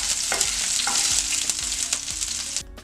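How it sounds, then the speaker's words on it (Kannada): Chopped fresh ginger fries in hot oil in a pan with a loud, bright sizzle punctuated by light scraping stirs, dropping off sharply at the very end, with no talking. "ಎಣ್ಣೆ ಕಾದ ನಂತರ 1 ಟೀ ಸ್ಪೂನ್ ಅಷ್ಟು ಹಸಿ ಶುಂಠಿನ ಕಟ್ ಮಾಡಿಬಿಟ್ಟು ಹಾಕಿ ಇದನ್ನ ಲೈಟಾಗಿ ಹುರ್ಕೋಬೇಕು"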